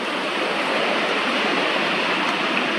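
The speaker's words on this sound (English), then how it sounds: "The waves up here are breaking a lot bigger and further out than I've seen in a while." Large ocean waves breaking beside the Cherry Grove Fishing Pier, heard as a steady, dense wash of surf noise that stays loud and even throughout, with no voices.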